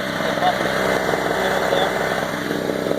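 Storm Cat 900 watt two-cycle gas generator engine running steadily with a loud, buzzing drone, continuous and close throughout.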